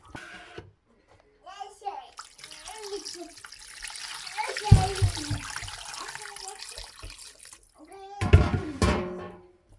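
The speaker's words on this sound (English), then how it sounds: "So I'm going to go ahead and pour some more water in this." Water splashes and pours from a tap into a pot of chicken bone broth in a home kitchen, building into a loud gushing run with a second burst near the end, while someone talks in the background.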